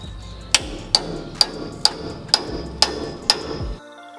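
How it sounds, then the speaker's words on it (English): A hammer drives a cold chisel around a truck's front wheel bearing, giving seven sharp metallic strikes at a steady pace of about two per second, close and ringing, with no talk. "I'm going to use this cold chisel and just hammer it all the way around to further loosen it."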